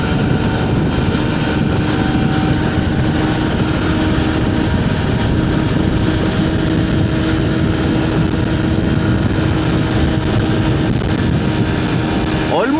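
A motorcycle engine drones steadily at near 120 on a highway, loud and close, with constant wind rush and no break throughout.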